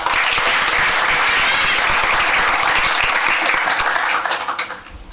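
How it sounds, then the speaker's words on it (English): Audience applause fills a village council chamber during a regular council meeting, a loud, dense, continuous wash of clapping from many people that holds steady and then trails off near the end. "One more round of applause."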